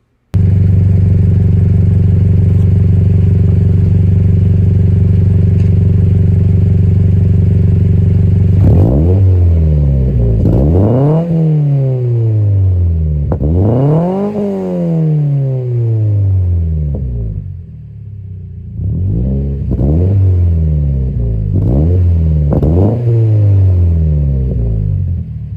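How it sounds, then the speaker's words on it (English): A Toyota GT86 on wide 245/45R17 tires idles with a steady low exhaust drone, then revs repeatedly, each loud, close blip rising and falling before settling back between throttle stabs. "Here's the exhaust sound."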